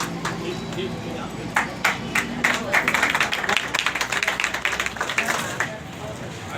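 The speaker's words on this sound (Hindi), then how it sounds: "आपकी जोरदार तालियों।" A crowd at a union Diwali solidarity gathering for Hindu employees breaks into applause, scattered claps building into a dense burst before tapering off, with a voice speaking over it.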